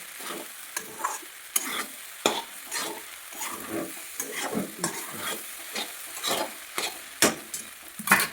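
Leftover bajra bhakri being sautéed in a pan, with repeated scraping stirs of a spatula against the metal over a soft background sizzle, the strokes coming in an irregular rhythm, close and alone without speech.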